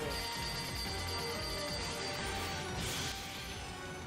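Dense, bright electronic effects from the game Phantasy Star Online 2 New Genesis, with jingly ringing tones and chiming layers, continuous and busy like a slot machine, with no one talking.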